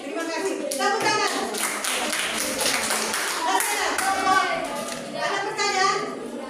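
A school class claps hands together in a rhythmic, patterned way during a lesson, loud and close, with children's voices mixed through the clapping.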